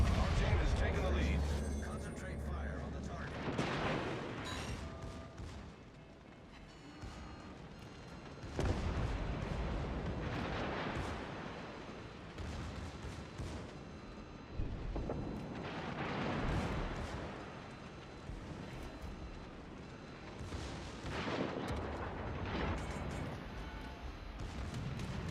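Heavy naval guns boom again and again in a warship battle video game, loud rumbling blasts spread across the clip with people talking under them.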